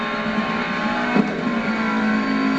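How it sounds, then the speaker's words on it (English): A Ferrari Challenge racing car's engine drones loud and steady from inside the cabin, a sustained tonal hum with a brief bump partway through. "It's a racing car."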